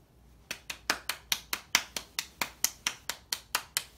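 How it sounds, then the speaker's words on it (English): A single person claps slowly and steadily, about fifteen crisp, evenly spaced claps, close and fairly quiet with no other sound around them. "Round of applause."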